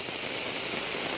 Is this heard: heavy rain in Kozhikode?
yes